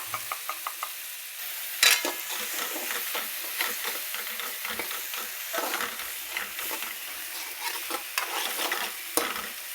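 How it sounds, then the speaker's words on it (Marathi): Onion and chili frying in oil, starting with a few light taps, then a steady close sizzle overlaid with continuous stirring scrapes of a spoon in the pan. "चांगलं तेलात असा फ्राय होऊ द्यायचा"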